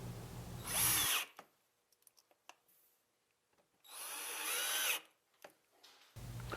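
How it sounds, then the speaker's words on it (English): Power drill driving #6 by 5/8 flathead screws to fix lift-system plates to a cabinet, heard as two close whirring bursts with light handling taps and clicks between them. "Use your number 6 by 5/8 flathead screws and attach the plates to the cabinet."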